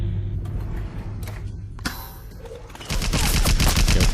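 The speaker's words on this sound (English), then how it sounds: "Joe seems to have activated this turret" An automated turret in the video game BioShock fires rapid bursts of gunfire, continuous and loud through the clip and growing denser and heavier over the last second or so.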